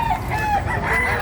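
A native rooster crows loudly and close by in one short, strained call, with a bit of clucking mixed in.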